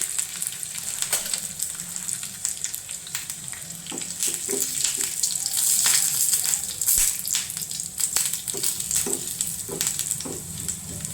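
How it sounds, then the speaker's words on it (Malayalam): Dried red chilies and curry leaves crackle and pop in hot oil, a dense continuous sizzle broken by sharp spitting bursts and an occasional clink, close and loud, with no one talking. "അപ്പോൾ നമുക്കിനി ഉണക്കമുളകും നമ്മളുടെ കറിവേപ്പിലയും കൂടി ഇട്ട് കൊടുക്കാം കേട്ടോ."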